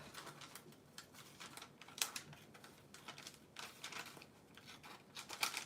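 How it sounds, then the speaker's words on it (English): Scissors snip through a paper strip for a handmade mini journal, a quiet series of short crisp cuts with faint paper rustle, close and alone. "cut a strip"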